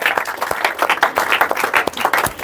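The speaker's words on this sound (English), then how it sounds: "Clap for it." A small audience claps during a motivational talk on overcoming fear of public speaking, sharp irregular hand claps from a handful of people lasting a couple of seconds, close and fairly loud with no speech.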